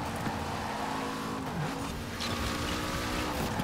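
Engine of a Lego Speed Champions car in Forza Horizon, a steady revving drone with shifting pitch and a brief dip in the middle, with no talk.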